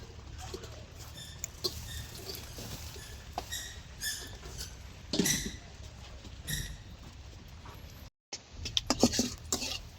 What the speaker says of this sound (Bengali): বৃষ্টি হইতেছে হালকা।